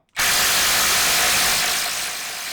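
Hyper Tough and Bosch 12V brushless impact drivers running together, a loud continuous high-pitched whirring and hammering that starts abruptly and holds steady, easing slightly near the end, with no talk.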